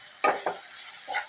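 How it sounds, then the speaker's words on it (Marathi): Cauliflower with red chilli powder, garam masala, coriander powder and salt stirred in a pan, a faint background hiss punctuated by a few quick scraping strokes, close by and brief, no talking. "सर्व मिश्रण एकसारखं होईल असं आपण परतून घेऊया."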